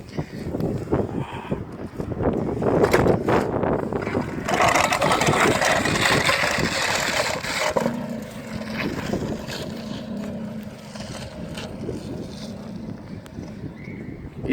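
Peugeot 103 MVS moped engine being cranked to start, a rough sputtering motor rising and falling for several seconds, moderately loud, then fading to a low idle-like rumble with outdoor background noise.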